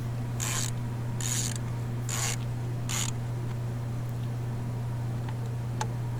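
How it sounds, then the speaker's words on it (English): A ratchet snugging a spark plug coil pack into place on a 2002-2006 Honda CR-V, four quick close clicking bursts in a row, then a faint tick or two in quiet workshop hum. "then we'll end it off again with the ratchet"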